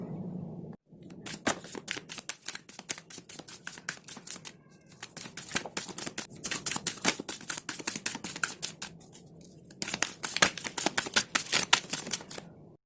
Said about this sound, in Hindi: पहले मैं कार्ड्स को शफल करूँगी।